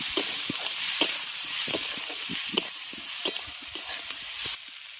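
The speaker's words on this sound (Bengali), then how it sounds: "আদা রসুন পেঁয়াজটাকে আগে ভালো করে একটু ভেজে নেব" Onion, ginger and garlic frying in a pan, a soft continuous sizzle broken by frequent short scrapes and taps of a spatula stirring at an irregular pace, close by and without talk.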